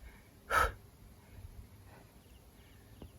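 A single loud, breathy exhale bursts out close to the mic from a BMX rider winded after riding, followed by quieter, faint breaths in a hushed setting.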